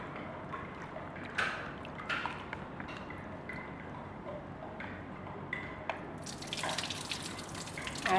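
Soybeans being washed under running tap water while making tempe, a faint continuous trickle with scattered drips and small splashes, growing louder and fuller near the end.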